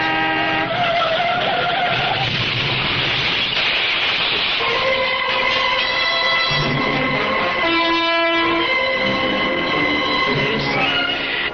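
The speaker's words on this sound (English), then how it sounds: "was that the sound of a car crash?" Tires screech in a long, loud skid with harsh grinding and scraping, leading into a crunching impact, with no voices.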